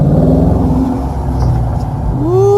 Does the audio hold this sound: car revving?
yes